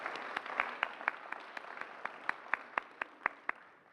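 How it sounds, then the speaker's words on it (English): Modest audience applause for a Senior Center at a talk, fairly faint and distant, with a few distinct claps standing out at a steady pace over a soft background of clapping. "could we give a round of applause to the Senior Center for all the work they do?"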